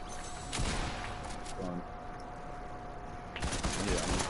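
Gunshots in a shooter video game, a few sharp bursts and scattered shots over steady game ambience, with voices talking briefly in between.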